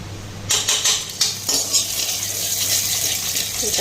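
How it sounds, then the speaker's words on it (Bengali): Paneer frying lightly in a pan with a little ghee, a steady soft sizzle beneath sharp clinks of a utensil against the pan in the first couple of seconds, no talk. "এখন হালকা পনিরটা ফ্রাই করুন"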